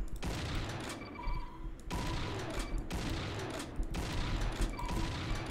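Rapid, continuous automatic gunfire from a Doom mod video game, a dense loud barrage of shots with brief pauses between bursts, close and dominating throughout.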